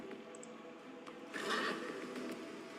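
A video-game horse whinnies once, fairly quiet and somewhat distant, against a soft steady background hum; no voices.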